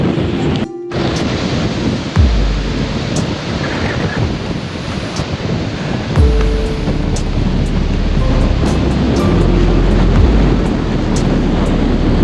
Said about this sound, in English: But it is very bloody windy today.